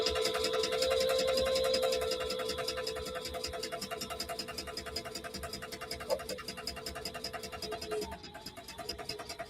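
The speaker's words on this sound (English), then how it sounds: "No, it's my sewing machine." A home sewing machine running steadily, a fast, even mechanical whir with rapid regular needle clatter, faint and close, tapering off slightly toward the end with a few small bumps.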